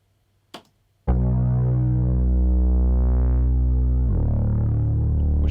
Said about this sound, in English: a bass from the Model D on it